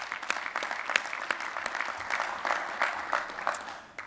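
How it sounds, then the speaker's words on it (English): Applause from a union convention audience, dense, sustained clapping that carries on for several seconds and thins slightly toward the end. "I would like to give you an applause."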